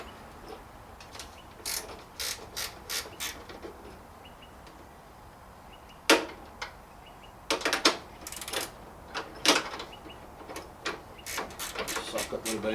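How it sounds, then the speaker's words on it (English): A spanner works a 10mm nut loose on an L-shaped bracket under the bonnet of a Nissan Navara D40 during a gas strut install, giving bursts of sharp ratcheting clicks and rattles, with faint birdsong in the background. "Undo the 10mm."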